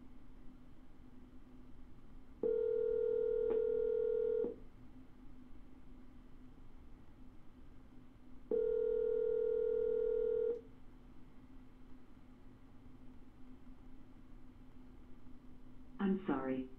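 A phone line gives two drawn-out, evenly spaced steady tones over low hiss during a redial, with a short clatter near the end.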